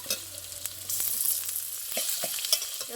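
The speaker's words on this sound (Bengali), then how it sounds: "রসুনটাও ভালো ভাজা হয়ে গেছে পেঁয়াজের সাথে এবার একটা টমেটো কুচি করে নিয়েছি দিয়ে দেবো" Steady crackling sizzle of onion, garlic and chopped tomato frying in a hot pan, close and continuous, with occasional scraping stirs.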